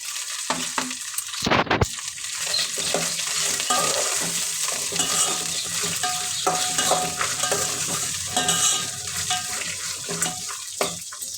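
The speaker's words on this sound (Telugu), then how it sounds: "పోపు వేగిన తర్వాత కట్ చేసిన బెండకాయ ముక్కలు" Cut okra pieces fry in tempering oil with crushed garlic, green chillies, curry leaves and dried red chillies, giving a steady close sizzle with scraping stirs and a brief louder clatter near the start.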